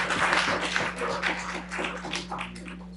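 An audience at a zoning board hearing breaks into scattered clapping, dense and uneven, heard from a moderate distance in a room. A low electrical hum runs underneath.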